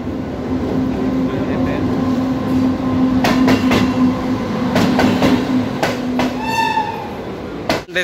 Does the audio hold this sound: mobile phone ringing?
no